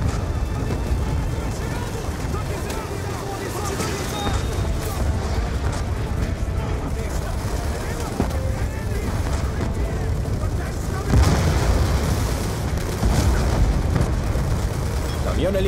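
Rumbling blasts and booming explosions roll through a noisy, chaotic Call of Duty: Black Ops II soundscape, with a bigger burst near the end as an armed truck is destroyed.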